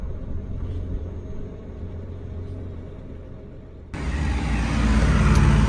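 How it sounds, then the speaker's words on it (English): A pickup truck drives by up close, its engine a loud steady rumble that swells and grows louder toward the end. "You just keep driving your little pickup truck."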